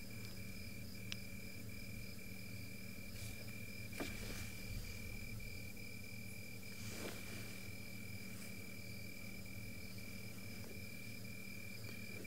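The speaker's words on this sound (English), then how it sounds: "Only the crickets, no birds." Steady insect chirring fills the background, a constant night-time cricket drone with faint scattered clicks and no other voices.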